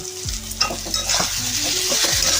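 Cumin and chili powder stir-fried in a pan for an egg dal, with a steady sizzle and scraping spatula strokes, loud and close, no voices.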